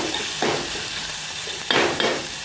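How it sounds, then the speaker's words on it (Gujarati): A spoon stirring chopped onion mixture in hot oil in a pan for bread pakora, a steady sizzle with a few louder scraping strokes, close by. "હવે મિક્સ કરી નાખશું આપણે આ રીતે હલાવી નાખશું"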